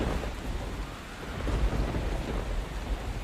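A cartoon thunderstorm roars with heavy rain, a loud, dense wash of downpour under deep, continuous rumbling thunder that swells slightly midway, with no voices.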